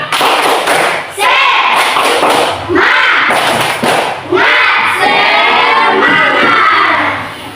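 A group of children in a classroom clap in loud rhythmic bursts while chanting together, several short sequences with brief pauses between them, close and energetic.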